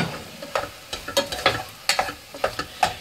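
Prawn and drumstick curry sautéing in a pan, with a series of sharp spatula clacks and scrapes at an uneven rhythm over a low frying sizzle, close up and with no talking.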